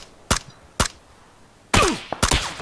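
Two sharp, isolated gunshots followed by a heavier burst of shots with a rattling tail, loud and close, in PlayerUnknown's Battlegrounds.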